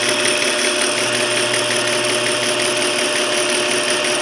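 South Bend toolpost grinder running steadily, its belt-driven pulley and spindle turning with a continuous loud motor hum and whine, alone with no voices.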